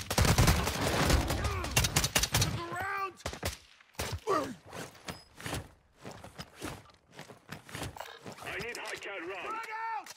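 Rapid bursts of Alabaster 9mm submachine gun fire from Warzone 2 crackle loudly and densely at the start. Sparser shots and footsteps follow under a voice as he talks.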